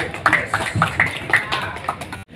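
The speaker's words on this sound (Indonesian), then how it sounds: "Tepuk tangan untuk Garda." Audience applause for a speaker named Garda, with scattered, uneven claps rising and falling across a couple of seconds at moderate loudness before stopping abruptly.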